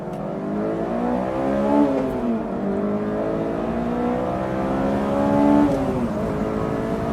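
An AP1 Honda S2000 engine revving up through the gears toward 9,000 RPM from inside the car, a loud rising whine with two climbs, a brief dip at a shift, and no talk.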